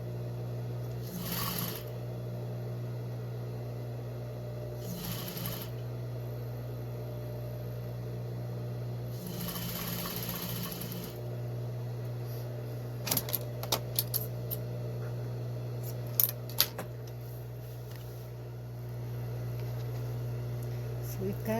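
A sewing machine stitches quilt fabric pieces cut along deep curves, a steady low motor hum with a few brief louder bursts and small clicks and taps near the end.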